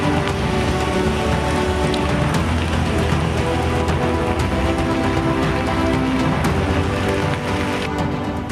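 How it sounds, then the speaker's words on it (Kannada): Heavy rain pours down steadily during a cloudburst in Udupi, a dense, loud, unbroken hiss of downpour lasting throughout with no voices. "ರಾಜ್ಯಾದ್ಯಂತ ಮಳೆ ಅಬ್ಬರ ಮುಂದುವರೆದಿರುವಂತೆಯೇ ಅತ್ತ ಉಡುಪಿಯಲ್ಲೂ ಕೂಡ ಮೇಘ ಸ್ಫೋಟ ಸಂಭವಿಸಿದೆ"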